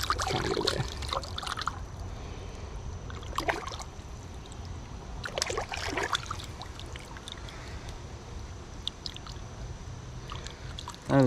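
A creek chub about nine inches long is splashed and rinsed in the water of a small Michigan creek, giving bursts of close sloshing and dribbling against a steady background of flowing water.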